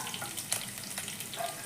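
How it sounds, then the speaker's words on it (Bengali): Chopped garlic, about eight to ten cloves, frying in hot oil for home-style chowmein, a soft steady sizzle with light scrapes of stirring and faint clinks, close and alone. "দেখো তেল গরম হয়ে গেছে। এবার দেব আমি 8-10টা মতো রসুন কুচি। রসুনটা একটু নেড়ে নিয়ে"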